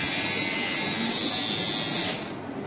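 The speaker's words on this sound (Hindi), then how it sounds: "ये देखिए ये ट्रिमर है दोस्तों" A Dingling RF 609 hair clipper trimmer runs close by with a steady, loud electric buzz for about two seconds before switching off, leaving a faint hiss.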